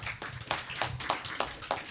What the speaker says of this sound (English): It's so odd for me to have clapping with prayer